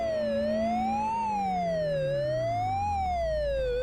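A police car siren wails through slow rising and falling sweeps in the Amiga driving game Test Drive, loud and continuous, over a low engine drone that sinks steadily in pitch.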